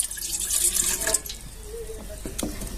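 A bowl of water is poured into a cooking pot while preparing ukad poli, a steady splashing gush that runs for about a second before settling into softer trickles and drips, close and alone.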